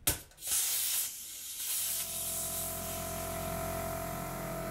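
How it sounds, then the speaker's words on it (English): Compressed air from an airline hisses into a pressure pot holding a cherry burl and epoxy bowl. A sharp burst at connection settles into a steady, fairly quiet hiss that continues unbroken. "Connecting up the airline. To the pressure pot."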